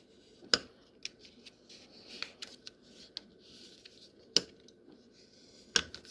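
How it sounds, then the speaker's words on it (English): A paper card's score lines being burnished, soft rubbing strokes going back and forth with a few sharp clicks and taps scattered through, close and fairly quiet. "Go back and forth on each one of these, and then I burnish these underneath here too"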